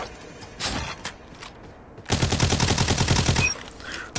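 A UL736 light machine gun fires in a video game: a few scattered single shots, then a dense rapid burst lasting over a second, loud and close, followed by a short tail.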